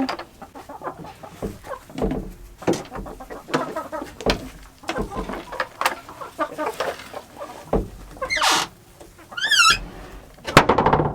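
Several year-old hens cluck and chatter close by at a coop in irregular bursts, with a few higher squawks near the end.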